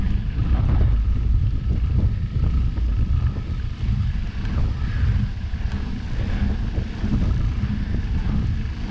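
Wind buffets a microphone during a chilly, windy November bike ride uphill, a loud steady low roar with gusty swells and no talking.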